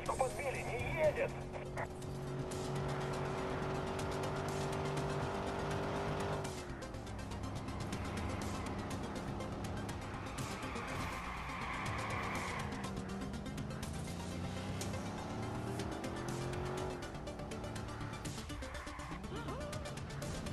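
Engines rev and tires skid through a car chase in Watch Dogs on PS4, a steady, loud roar with rising and falling engine pitch that continues throughout.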